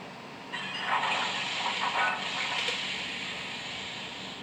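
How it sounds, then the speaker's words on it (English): A short metallic clank and hiss of the coupler sound effect on an HO-scale MTH model steam locomotive, with a steady steam-like hiss continuing afterward. "Function 11, coupler sound."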